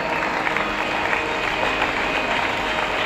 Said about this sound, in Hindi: सभागार में गूंज रही है, तालियां दे रही है।